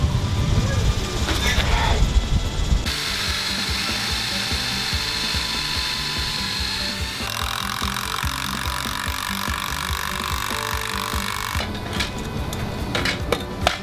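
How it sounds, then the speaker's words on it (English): An impact drill driving a lag screw through a horizontal slat into a wooden backyard fence post, a loud steady rattling hammering in long bursts with brief pauses between them. "then I'm gonna use an impact drill to go ahead and just carry it all the way through and lag it"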